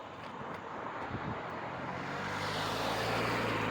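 A vehicle engine swells steadily louder as a car approaches on a road by Hampton Manor lake, New York, amid broadband road noise and some wind buffeting, with no voices.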